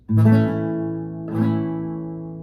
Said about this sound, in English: you have A, which looks and sounds like this